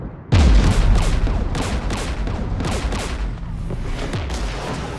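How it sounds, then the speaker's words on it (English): Heavy anti-aircraft gunfire in the Mass Effect 3 video game at a Geth jamming tower: a sudden loud opening blast, then a continuous rattling barrage of shots and booming impacts that stays dense and loud to the end, with no talk. "We're taking fire."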